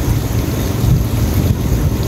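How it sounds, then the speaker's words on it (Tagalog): Strong wind buffets the microphone in a steady, loud roar, with a deep low rumble and no voices. "Lakas po ng hangin."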